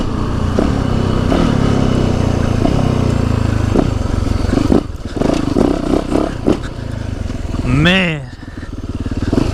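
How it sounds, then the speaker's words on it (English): Yamaha YZ450FX dirt bike ridden in the woods, its engine loud and close, blipping and revving in uneven bursts with clattering, while someone speaks briefly over it. "First time riding a YZ450FX."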